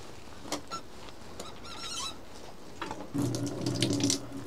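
A stream of running water splashes steadily from an outdoor tap at a campsite, rising louder in the last second or so, with no one speaking.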